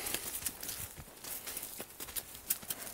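A donkey's hooves clop on the ground near a field with sheep, a quiet, uneven series of close footfalls with faint rustling between them and no talk.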